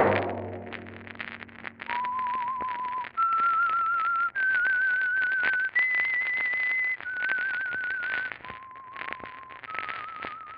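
A person whistles a slow tune of several sustained notes rising then falling, clear and alone over faint background hiss.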